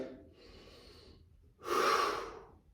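Audible yoga breath during a flowing class: a soft, airy inhale sustained for about a second, then a louder, forceful exhale through the nose, fairly close and alone.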